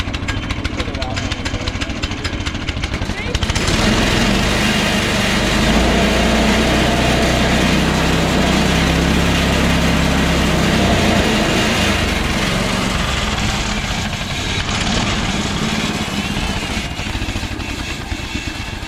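A small engine idles steadily and loudly while its idle screw is being adjusted, the rough buzzing drone holding for close to twenty seconds with a shift in pitch early on and voices talking over it.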